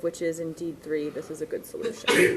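A brief sneeze bursts out near the end of a math lesson, right after a voice speaks steadily over the rest.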